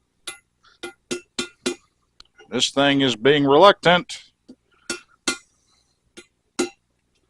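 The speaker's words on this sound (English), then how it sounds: "it's okay to tap them in very gently, just starting them in, but make sure you use a brass hammer" A brass hammer gently taps bearings into the swing arm of a 1972 Harley-Davidson Shovelhead motorcycle, giving sharp, isolated metallic clinks at irregular intervals, with a stretch of nearby talk in the middle.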